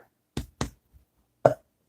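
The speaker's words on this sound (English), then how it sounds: "I have to belch" A person belching during a quiet spoken book chat: two short close gulping bursts, then a third stronger one after a pause, with no talking over them.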